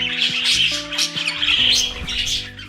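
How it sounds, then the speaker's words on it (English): A budgie chatters and squawks in a run of quick, raspy, close calls. Faint tonal music plays underneath. "All birds, including budgies, make a lot of different noises. They chatter a lot and make several sounds"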